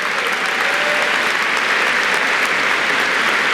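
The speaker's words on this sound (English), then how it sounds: "Let's give the Yale Choir another round of applause," Dense, sustained audience applause for the Yale Choir at a 2019 graduation ceremony, a large crowd clapping evenly and loudly throughout with no pauses.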